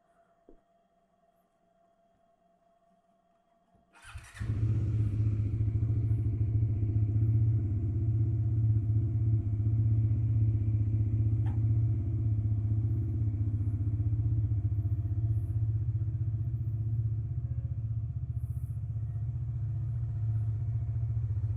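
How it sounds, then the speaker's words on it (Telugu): A Bajaj Dominar 400 motorcycle engine starts after a few quiet seconds, then idles steadily and loudly close by with a low, even rumble. "ఇంజన్ అయితే కొంచెం వార్మ్ చేసి ఇంకా స్టార్ట్ చేయడమే రైడ్ని"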